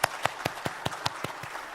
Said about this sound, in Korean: 다시 한번 감사 영광의 박수 하나님 앞에 올립니다.